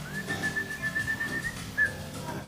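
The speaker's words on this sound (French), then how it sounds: "Et il siffle pour le cure-dent et le cure-dent danse." Someone whistles a single sustained high note to make a toothpick dance, held steadily for over a second, then a brief second chirp, close and clear over soft background rustle.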